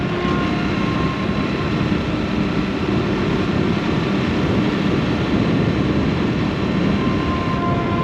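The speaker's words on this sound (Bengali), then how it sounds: "রেলগেট বন্ধ, ট্রেন যাচ্ছে যাক" A train rolls past a closed railway level crossing beside a highway, giving a steady, loud rumble and clatter that fills the whole stretch without pause.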